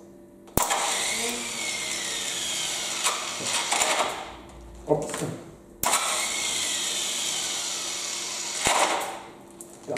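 A flood-damaged Honda engine from the Ahr valley cranks while being jump-started, giving two long, loud cranking bursts with a rising starter whine, separated by brief pauses and clatter.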